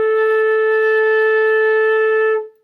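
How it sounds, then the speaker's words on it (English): A single held instrumental note sounds with a straight, steady tone and no vibrato, even and loud for about two and a half seconds before it stops cleanly. "if we were to play something with a straight tone, with no vibrato"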